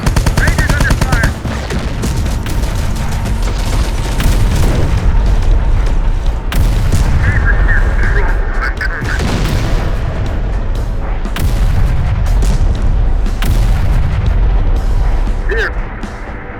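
Intense battlefield gunfire on rangers in the video game Terminator: Dark Fate - Defiance: loud, continuous machine-gun bursts mixed with heavy booms and explosions, lasting throughout, with voices calling out at moments beneath the fire.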